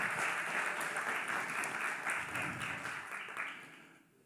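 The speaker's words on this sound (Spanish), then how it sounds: "Démosle un aplauso al Señor, porque Él vive." A church congregation applauds steadily in a reverberant room during a sermon, the clapping sustained for a few seconds before fading out.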